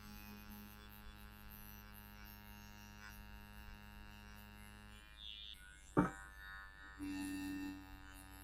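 A Dragonhawk tattoo machine running at 9 volts gives a steady, even electric buzz throughout, with one sharp click partway through and a brief shift in tone afterward.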